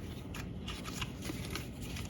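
Tarot cards being shuffled and handled up close, a continuous papery riffle with soft slaps and flicks, steady and alone without talk.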